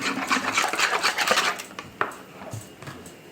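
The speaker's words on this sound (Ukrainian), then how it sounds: "Перемішую." Quick, busy clattering of a utensil against a bowl of eggs, soda, mayonnaise and milk being mixed, then slowing to a few separate taps and scrapes, fairly close with no talking.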